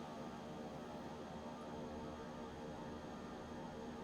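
Simulated engine of an Epic EG1000 aircraft at full throttle in X-Plane 11, a steady, unchanging drone with a constant hum, fairly quiet and heard alone.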